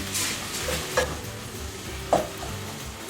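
Onions sizzling and caramelizing in a pan with salt and black pepper, a steady close frying hiss broken by a few sharp stirring scrapes of a utensil against the pan.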